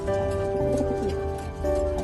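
Racer pigeons of a strong bloodline coo in a short, soft, steady run, close by, with no talk.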